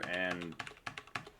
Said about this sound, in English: I can try typing in some numbers here